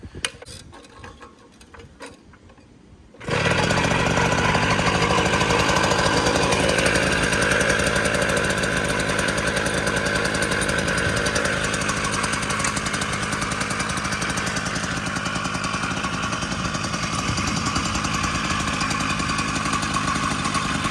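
A 1980 Puch Maxi Luxe E50 moped engine fires up after a few seconds of quiet and then runs steadily with a loud, buzzing two-stroke drone for the rest of the clip.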